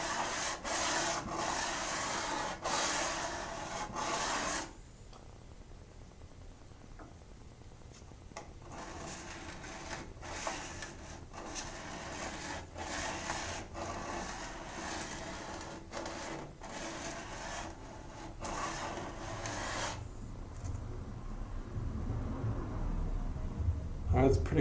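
Knife handle scales are sanded on a belt with bursts of gritty, rasping abrasion, loudest at the start and end, with quieter intermittent scraping strokes between them, close to the listener.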